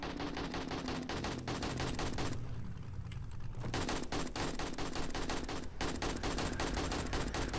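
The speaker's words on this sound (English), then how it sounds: "what are you guys shooting at?" Rapid automatic gunfire in the zombie survival video game 7 Days to Die, dense rattling bursts near and loud, broken by one short lull of about a second and a brief gap later.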